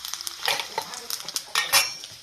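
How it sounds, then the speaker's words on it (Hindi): A garlic, cumin and onion tempering for dal crackles in a pan as a utensil stirs and clinks against the metal, giving quick scraping knocks over a soft sizzle. "मैं दाल ला तड़का लगा हूँ।"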